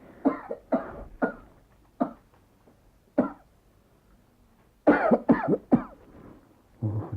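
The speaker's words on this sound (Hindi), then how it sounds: "आज फिर उस दिन की तरह खांसी का दौरा पड़ा हुआ है आपको?" A person coughs repeatedly in a fit, short harsh bursts spaced out at first, then a quick cluster of several hacking coughs, close and clear, in a radio drama.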